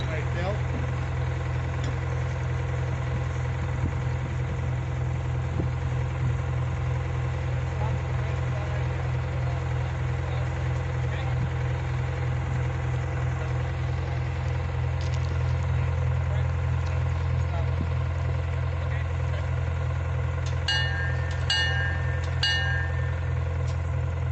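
Work crew vehicles at a railway yard rumble with a steady, close engine idle throughout, a continuous low drone with faint clanks and brief higher chirps near the end.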